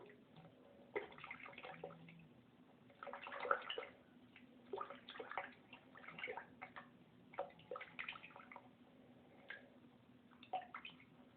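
Water splashes and trickles as soap is rinsed out of a makeup brush, with irregular close bursts of running and dripping water over a quiet sink background.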